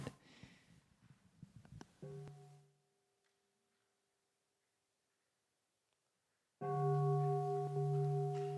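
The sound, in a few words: bell struck once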